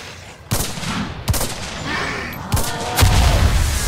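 M1 Garand rifle shots ring out in the WW2 shooter Enlisted during a zombie event, several loud sharp cracks spaced about a second apart over steady battle noise.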